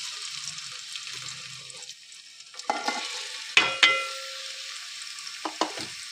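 Onions and green chillies frying in oil with bay leaf for a mutton gravy, a bright hiss that swells as the spoon strikes and scrapes the pan in several sharp clusters, close and unaccompanied by speech.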